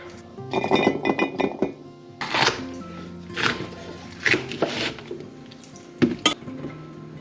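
Squash being chopped on a cutting board, with a series of knife knocks and clinks against the board and utensils in clustered bursts, close and moderately loud, no talking.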